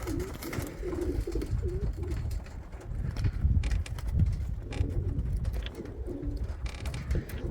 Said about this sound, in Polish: gołąbki na razie się wietrzą, Widzę, że je śnieg zainteresował